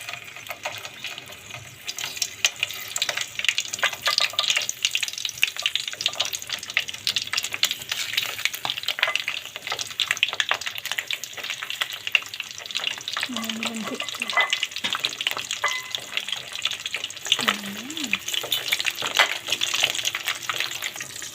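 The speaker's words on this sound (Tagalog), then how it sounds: "kailangan papiprito nito medyo toasted" Tinapa, a smoked fish, frying in a pan until toasted, giving a continuous crackling sizzle that stays steady and close throughout, with a couple of brief higher tones in the background.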